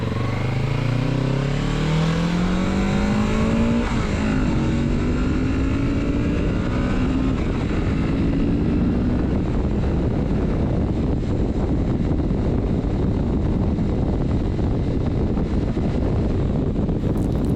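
A 2024 Kawasaki Z650RS motorcycle accelerates away, its engine note rising through gears under steady, loud wind rush at the rider's position, with no talking.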